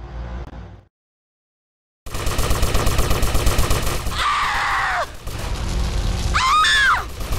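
Gunfire in GTA Vice City Stories on PS2 comes as a dense run of rapid, repeated shots after a brief silence, loud and continuous, with shrill cries and game noise mixed in.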